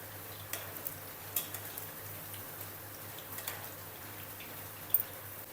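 Cauliflower pakoras coated with egg batter frying in hot oil, a steady soft sizzle with scattered crackles and a few sharper pops as the fritters are flipped.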